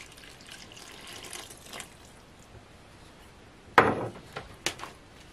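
Water goes into cracker dough made with flour and olive oil, a short splashing pour after a quiet stretch, followed by a couple of faint knocks against the bowl.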